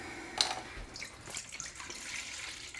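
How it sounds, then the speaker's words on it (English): Water runs and drips into a homemade smoked-sausage meat mix, a light splashing trickle with a brief sharper splash early on, fairly faint and with no talking. "we got to add a little bit of water"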